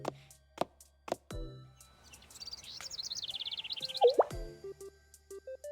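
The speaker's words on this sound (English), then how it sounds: "Birds chirping." Bird chirps and tweets in a game's indoor park at night, a rapid trill of short calls followed by scattered brief chirps, fairly clear against a quiet background with a few plopping sounds.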